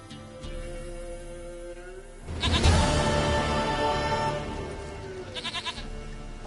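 A goat in The Witcher 3 lets out a loud, wavering bleat near the middle, then a shorter trembling bleat follows, over steady game ambience with no talking.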